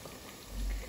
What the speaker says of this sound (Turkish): O kadar güzel yağıyor ki şu anda.